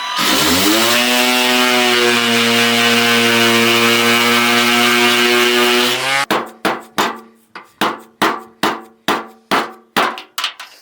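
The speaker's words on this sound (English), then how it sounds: "I'm sanding off the faces of the riv nut to pop them out through the back with a hammer" A power sander grinds down riv nut faces on a widebody Mustang front fender, a loud steady whine for six seconds, then about ten sharp hammer blows knock the nuts out in a quick rhythm.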